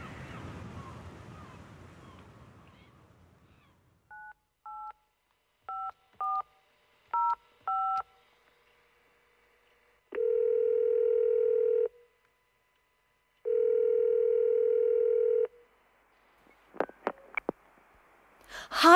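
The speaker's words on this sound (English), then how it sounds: "Let's phone my brother in America." A telephone keypad sends short paired DTMF beeps as a number is dialed, about seven quick tones, then two long steady ringing tones follow, clear and close with silence between them.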